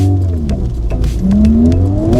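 2025 Honda Civic Type-R accelerating hard on a wet road in the rain, engine note rising steadily as the tires lose traction, loud and close with no talking.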